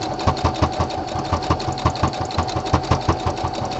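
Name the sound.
sewing machine sewing a decorative top stitch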